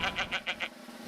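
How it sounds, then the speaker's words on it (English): Five short bleats from a fainting goat in Tennessee, evenly spaced and moderately close, ending in a brief quiet stretch. "it's the famous fainting goats of Tennessee"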